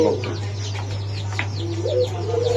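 Restless pigeons at a pigeon seller's loft flutter and call in a brief string of soft coos and chirps, over a steady low electrical hum with faint background activity.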